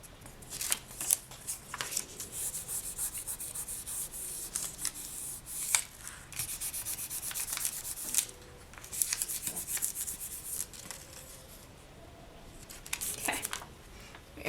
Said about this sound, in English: I'm just going to burnish over here one more time as well